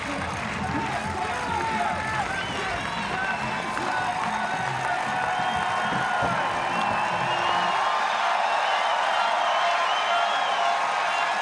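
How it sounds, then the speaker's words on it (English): A crowd cheers and roars for triathlete Laura Lindemann at the 2022 European Championships in Munich, a steady wash of shouting spectators over the whole stretch. "the crowd giving Lindemann massive encouragement here"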